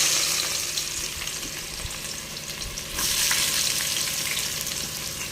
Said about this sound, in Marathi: कांदा आपण तळायला सुरुवात केलेली आहे